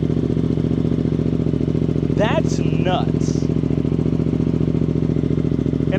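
Suzuki GSX-8R motorcycle fitted with a Yoshimura exhaust idles steadily after a cold start, a constant low throbbing drone throughout, while someone talks briefly over it.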